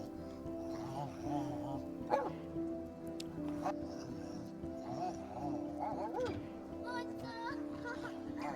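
A cartoon dog barks and whimpers in short yips and whines over a continuous animated soundtrack, heard at moderate volume.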